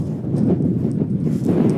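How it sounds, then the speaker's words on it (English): Heavy, continuous wind buffeting the microphone at a caravan park in North Queensland, Australia, a loud low rumble with gusty fluctuations and no voices. "it is very windy, so I don't know what this audio is going to be like"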